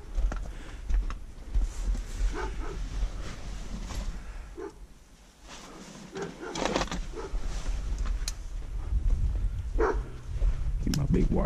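A puppy yips and barks a few times at a scrapyard while a person talks nearby, the short barks scattered between speech and background clatter.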